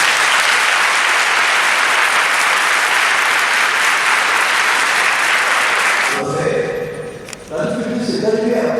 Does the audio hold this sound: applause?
yes